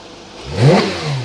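A Porsche GT3 engine gives a short, loud rev that climbs quickly and then settles back, heard close up.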